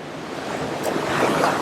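Ocean waves wash steadily onto a beach in Mexico, a continuous broadband surf roar that swells slightly louder toward the end, with light wind on the microphone and no voices.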